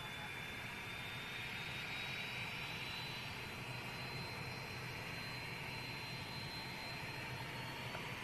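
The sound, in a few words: Airbus A380 jet engines at Manchester Airport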